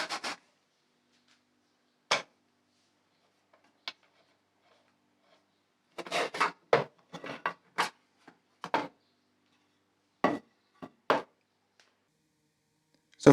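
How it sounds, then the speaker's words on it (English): Hand sawing of wooden dresser legs guided by a frame jig, with sparse, separated rasping strokes and a quick cluster of short cuts in the middle, crisp and close in an otherwise quiet workshop. "To saw the legs to the correct length, I'm using a frame jig to help keep the sawing square and straight."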